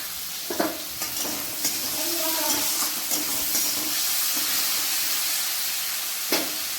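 Carrots and other vegetables fry in a pan for fried rice as salt goes in. A continuous close sizzle and hiss carries on, broken by a few light stirring clicks and taps.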